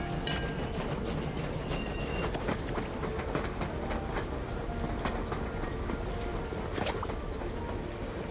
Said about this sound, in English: I don't want to do the train